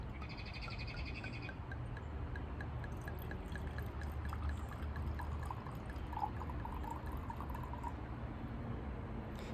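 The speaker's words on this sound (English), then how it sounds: "So I'm going to go and pour myself a glass real quick." Red wine pours from a bottle into a glass in a steady, continuous stream that lasts for several seconds, close and fairly quiet, with faint high tonal chirps in the background near the start and no talking.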